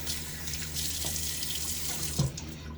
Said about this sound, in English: Water on face.